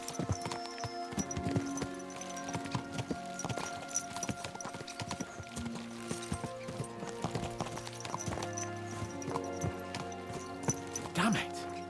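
Horses gallop in Kingdom Come: Deliverance II, the rhythmic clip-clop of hooves running steadily throughout, with an occasional whinny, under game music and a talking voice.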